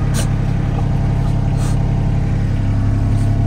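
A tipper lorry's diesel engine runs with a steady low rumble on a narrow gravel road, continuous and fairly loud, with a few brief clicks or knocks over the drone and no talk.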